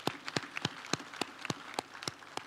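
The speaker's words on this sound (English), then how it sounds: "please clap for them" An audience at a university graduation ceremony claps in a steady, rhythmic beat, the claps evenly spaced and fairly faint, heard from a distance.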